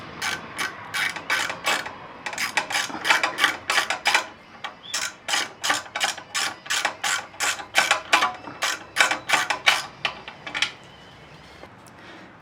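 Bolts being removed from the skid plate of a 2012 Yamaha Super Tenere motorcycle with a ratchet wrench, a close, rapid series of clicking ratchet strokes that come in bursts with short pauses between them.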